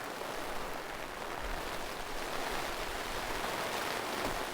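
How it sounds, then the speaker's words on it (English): Heavy rain pouring steadily off the side of a tent while car camping in a rainstorm, a dense, continuous rushing wash with no pauses and no talk. "the rain's pouring off the side now"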